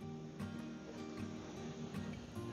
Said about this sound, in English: It's going to fizz and bubble like that for a little bit.